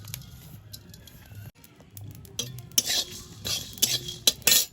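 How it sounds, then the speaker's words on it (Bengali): Whole garam masala and three dried red chillies dry-roasting in an empty pan, stirred with a utensil that gives light, irregular scrapes and clinks, growing busier toward the end. "3টে শুকনো লঙ্কা শুকনো খোলায় দিয়ে দেবো, গোটা গরম মশলা"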